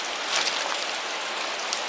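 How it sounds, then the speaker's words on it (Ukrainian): Rain falls steadily in the Carpathian mountains, a dense even hiss of drops with faint spatters, with no voices over it. "Почався дощ"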